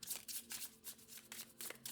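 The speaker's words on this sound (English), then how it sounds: "This is the Sleepwalker's Tarot, and I'm shuffling here." Tarot cards from the Sleepwalker's Tarot deck being shuffled by hand, giving a run of quick papery riffling bursts that repeat in a steady rhythm, close and soft, with no talking.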